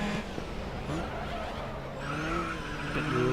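Hard braking in the Grid Autosport racing game: tyres squeal and skid over a steady engine drone, with the screech rising and wavering in pitch throughout.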